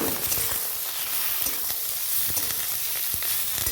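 Fried noodle ingredients and egg sizzle loudly in a mustard-oil pan while being stirred together, a dense continuous hiss broken by frequent utensil scrapes and taps.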